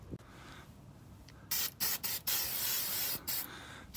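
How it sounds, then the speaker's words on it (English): Aerosol can of Fluid Film sprayed onto the underside of a Toro TimeMaster mower deck: several close, loud hissing bursts of varying length with short pauses between, no talk. "Every winter I spray the bottom of the deck down with some fluid film."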